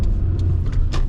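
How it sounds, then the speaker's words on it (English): A one-owner 1997 Toyota 4Runner 4x4 with a 5-speed manual gearbox drives along, heard as a steady, low road and engine rumble from inside the vehicle, with a few faint ticks on top. "Car drives very smooth."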